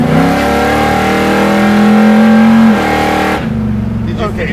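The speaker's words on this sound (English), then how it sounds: "That's an entry-level nitrous shot." A 1970 Chevelle SS muscle car accelerates hard on a nitrous shot, its loud engine note climbing steadily in pitch for nearly three seconds, then dropping at a gear change and pulling again; voices murmur faintly underneath.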